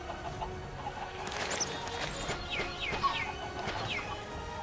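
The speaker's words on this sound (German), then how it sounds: "Die Hühner, die wachsen hier richtig gut." Chickens on a farm in the video game Minecraft, several short clucks and squawks scattered over a few seconds against a soft background hum, no talking.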